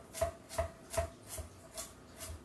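A knife dices carrot sticks on a board for dhal, six evenly spaced crisp chops at a steady rhythm, close and quiet with nothing else heard.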